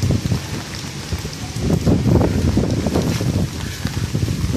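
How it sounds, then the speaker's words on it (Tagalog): Strong wind from Typhoon Ulysses drives rain in Pampanga, with a steady rushing roar and dense patter that swells and gusts throughout. "sobrang lakas pa rin ng hangin"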